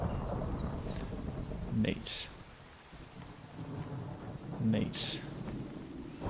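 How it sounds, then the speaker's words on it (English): Minecraft thunderstorm in a modded game: steady rain hiss with two sharp thunder cracks a few seconds apart, under someone speaking briefly. "Boom. Thunderstorm."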